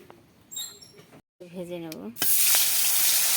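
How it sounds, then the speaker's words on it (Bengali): Tilapia fish frying in hot oil in a karahi erupts into a loud, steady, hissing sizzle partway through. Before it, brief squeaky, voice-like sounds and a short silence are heard. "মাছগুলোকে এখন ভেজে নেব"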